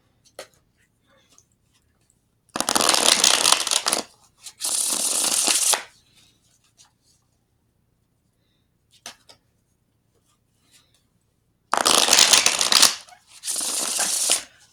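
A new personalized tarot deck being shuffled in four bursts of riffling cards, each lasting about a second or more, close and crisp with near-silent pauses between them and no talking.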